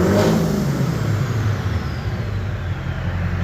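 A Duramax diesel pickup engine revs under throttle from the driver's side, a loud, rough rumble with a swelling surge at the start that settles into a sustained, throaty drone.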